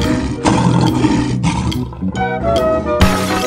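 A lion's roar, loud and close, in repeated rumbling bursts with a sustained roaring quality and no talk over it.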